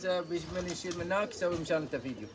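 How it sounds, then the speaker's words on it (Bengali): Pigeons coo in repeated soft, throaty rolling calls close by, overlapping one another in an uneven rhythm while someone talks over them. "এই যে আপনাদের কবুতর দেখেন সবগুলো বরাবর আছে"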